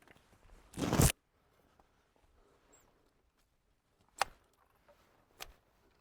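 Pruning shears snip branches of an apple tree in an intensive super-spindle orchard on M9 rootstock: one loud, sharp close cut, then two fainter, brief clicks a few seconds apart against quiet background.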